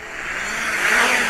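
Motors of a BUGS 2SE quadcopter drone spin up during automatic takeoff outdoors, a loud continuous whirring buzz that rises in pitch and intensity over a second or so.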